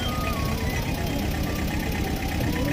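A tractor engine idles steadily in a rural setting where cows are being fed, a continuous close mechanical rumble filling the whole stretch without pause.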